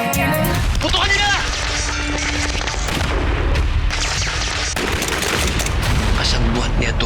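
Gunfire in a Filipino TV drama, with dense bursts of shots and booming blasts under a dramatic music score and shouting voices, loud and continuous throughout.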